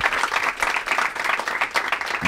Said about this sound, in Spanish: Un aplauso para Irene.